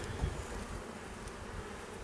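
Honey bees buzz steadily around an open hive during an inspection, a close, continuous drone that swells slightly in the first moments and then holds on its own, with no talk.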